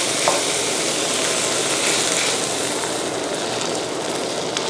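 A sweet-savory filling of thai golden-cracker snack being stir-fried in a pan with evaporated milk, a steady, loud sizzle and scraping hiss running unbroken throughout, close by with no voices.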